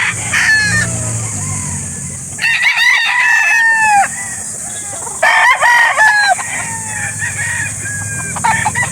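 Roosters crow at a chicken market in Calauan, Laguna. Several loud, close cock-a-doodle-doos ring out one after another over a steady murmur of clucking and background din.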